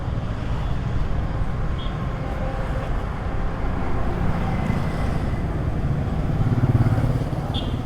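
A motorcycle rides through traffic with a steady, loud engine drone and heavy wind rush throughout, and the engine rises slightly near the end.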